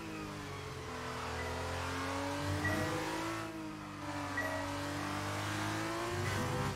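Formula 1 race car in the F1 22 racing game at Yas Marina sliding under a bridge, steady loud engine whine with shifting pitch and brief tire squeals, no talking.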